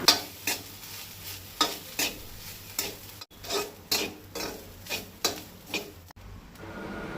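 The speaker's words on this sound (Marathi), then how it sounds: "सोय तळशिता आसतना करविलाची पानां घालपाक जाय।" Grated coconut frying with curry leaves in a pan for a Goan tonak, with a low sizzle under regular, rhythmic scrapes of a spoon stirring roughly twice a second, close and fairly soft.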